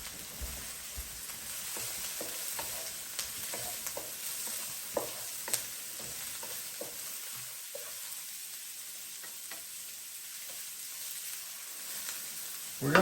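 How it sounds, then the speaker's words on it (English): Onions and cumin seeds browning in a frying pan give a steady, quiet sizzle, with scattered stirring scrapes and small clicks throughout and no talking. "we're gonna go ahead and brown the onions really nicely"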